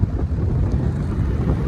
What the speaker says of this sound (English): Speed 1 is relatively quiet. For the amount of air this is moving, it's an excellent ratio.